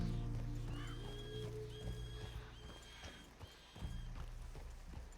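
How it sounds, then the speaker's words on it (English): Horse in Red Dead Redemption 2 whinnying with clip-clop hooves, a game soundscape at a quiet level with steady ambient hum beneath. "Voy a atar acá al caballo."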